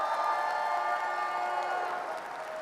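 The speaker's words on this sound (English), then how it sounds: "Give her a round of applause." Audience at a 5LINX customer acquisition training event applauding and cheering, a dense wash of clapping and whoops that gradually fades, with no speech over it.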